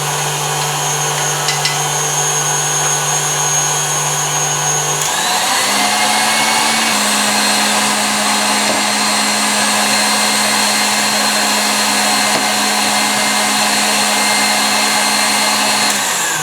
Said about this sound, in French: On ralentit un peu le batteur et on verse